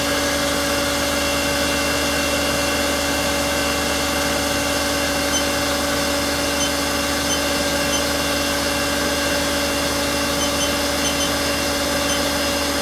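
Spindle of a Haas Super Mini Mill vertical machining center running at 4500 RPM, a steady loud mechanical whine with constant tonal hum and broadband noise, unbroken throughout and free of speech.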